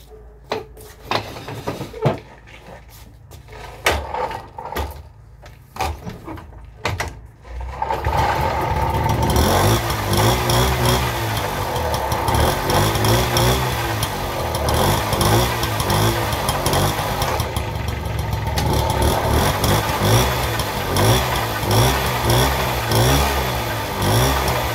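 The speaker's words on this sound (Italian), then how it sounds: "per accendere il motorino bisogna pedalare" A Piaggio Ciao moped is pedalled to life: scattered mechanical clatter and pedalling knocks for several seconds, then the small two-stroke engine catches and runs steadily and loudly through to the end.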